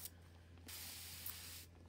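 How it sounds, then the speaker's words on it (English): Fine mist sprayed from a mister bottle during egg candling, a steady hissing burst lasting about a second, close and fairly loud over a low constant hum. "See how it just kind of shoots out that fine mist?"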